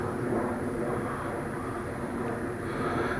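A Parkzone BF-109 radio-controlled model airplane in flight gives off a continuous, fairly loud electric motor drone that holds steady throughout, with no speech.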